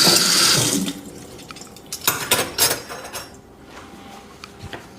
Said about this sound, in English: Get a little rinse on our spoons